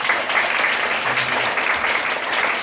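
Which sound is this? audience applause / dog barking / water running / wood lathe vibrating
audience applause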